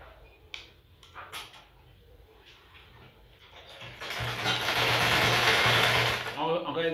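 A sewing machine stitches a trouser seam at 2 cm while following the shape during an alteration, starting after some quiet handling noises and then running in a loud steady whir for a few seconds before stopping.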